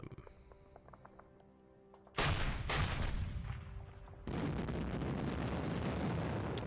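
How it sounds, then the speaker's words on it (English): Artillery fire in the World War II strategy game Hell To Pay, set in Japan 1945: quiet ambience breaks into a loud, sustained rumbling barrage, then a second heavier wave of booms rolls in and keeps going. "We do have artillery though."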